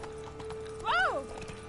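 In The Witcher 3 video game, a horse's hooves clip-clop in a quick galloping rhythm, broken by a short rising and falling whinny in the middle of the moment.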